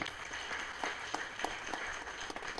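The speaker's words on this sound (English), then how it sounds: "let's give him and the government he was representing another big round of applause" At a university guild swearing-in and handover ceremony, an audience claps in a round of applause. The clapping is moderate and uneven, with distinct individual claps standing out over a steady crowd patter.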